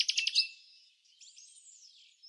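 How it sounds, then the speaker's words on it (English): A belted kingfisher in the Bahamas gives a close, clear call that opens with a quick run of harsh rattling pulses, then trails into thinner, wavering notes, alone without any talking. "the belted kingfisher."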